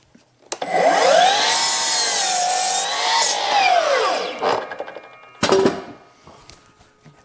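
A power saw cuts through lumber for homemade trusses: a loud, wavering motor whine bites into the wood for about four seconds, winds down, then a short second burst follows.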